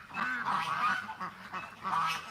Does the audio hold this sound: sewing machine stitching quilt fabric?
no